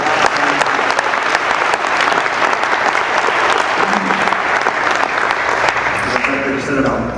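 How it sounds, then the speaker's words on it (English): A hall audience at a Long Beach mayoral debate breaks into a big, sustained round of applause, dense and steady clapping that holds for the whole stretch, with faint voices underneath near the end. "one big round of applause for the"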